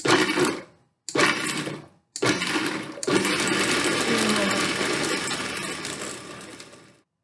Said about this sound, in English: add my olive oil, like I said, all at once because this blender has not let me down yet. And I'm going to start by just pulsing it.